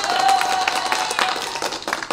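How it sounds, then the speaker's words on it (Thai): Clapping fills a couple of seconds, a brisk run of hand claps, loud and close, with a faint tone underneath and no talk. "ปรบมือให้นิดนึงนะครับ"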